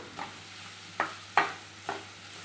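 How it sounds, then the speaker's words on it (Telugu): Grated carrot and fresh coconut being stirred in a pan with a ladle: four light scraping strokes at uneven intervals over a quiet background sizzle, close up. "కొబ్బరి కూడా మొత్తం అంతా కలిసేలాగా ఒకసారి గరిటతో కదుపుకుందాం."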